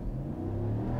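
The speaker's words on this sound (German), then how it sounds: "Kommen wir mal zum Stand, das geht und Vollgas." A 2021 Dodge RAM 1500 Laramie Sport pulls away from a standstill at full throttle, its engine droning loud and steady with a deep, continuous roar and no voices.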